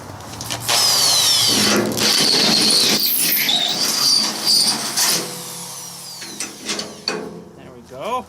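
Power drill hogging out bolt holes in the ramps of a small trailer, the motor whining loudly in sustained bursts with brief pauses and a final short spin-up.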